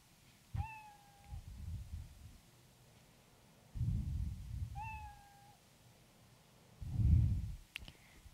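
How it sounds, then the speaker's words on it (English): The Scratch cat sprite's meow sound effect plays twice, a short clear meow each time, alone over low mouse clicks and soft background thumps. "he'll meow after all this"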